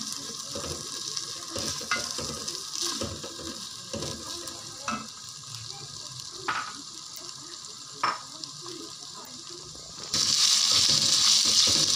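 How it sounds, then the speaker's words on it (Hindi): Garlic and ginger sizzling lightly in a pan, a steady soft fry with scattered stirring clicks from a utensil, swelling into a louder, fuller sizzle near the end. "और इसे मैं हल्का सा सिर्फ फ्राई करूँगी,"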